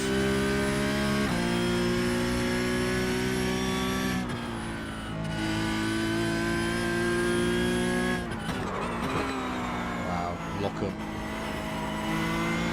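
Porsche Cup race car engine at the Nürburgring Nordschleife in iRacing, droning steadily with shifting harmonic pitch as it climbs and drops through gears, loud and continuous with gear changes around the middle.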